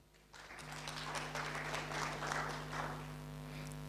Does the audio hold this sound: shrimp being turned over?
no